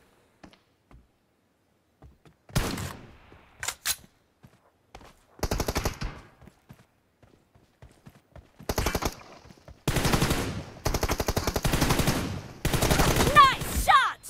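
Gunfire bursts from a Star Captain versus zombie video game, loud rapid volleys separated by short quiet gaps, growing denser toward the end as the shooting intensifies.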